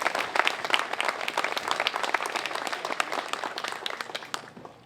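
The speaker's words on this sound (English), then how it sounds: "So a round of applause for Jason." Audience applause at a ceremony honoring Oregon first responders, a dense burst of many hands clapping that swells then tapers off near the end, close and lively.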